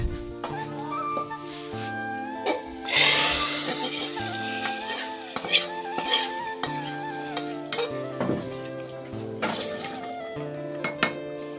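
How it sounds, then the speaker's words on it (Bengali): A fried spice tempering is stirred into mung dal cooked with goat meat, giving a sizzle, scraping stirs and small clinks of a utensil, with a sharper sizzling burst near the start over steady background music. "এখন আমি এটাকে ডাউলের সাথে মিশিয়ে দিব"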